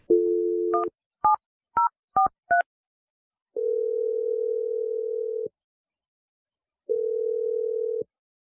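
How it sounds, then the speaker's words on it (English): A telephone dials a number: a steady dial tone, then six short beeping keypad tones in quick succession, followed by two long ringback tones separated by silence, clear and close with no talking. "I'm going to dial the number right now."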